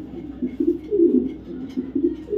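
A male BRPFC racing pigeon coos close by in a repeated, low, throaty rhythm, each call swelling and fading in steady soft pulses.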